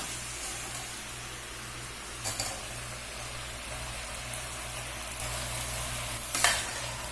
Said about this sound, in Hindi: तो अभी मैं इसमें आलू भी डाल देता हूँ।